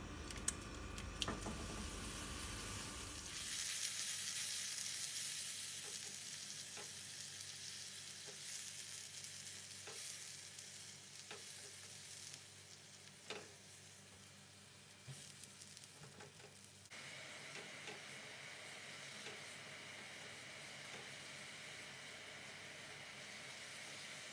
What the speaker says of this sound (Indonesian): Benar-benar tumis bumbu yang sudah dihaluskan sampai benar-benar matang.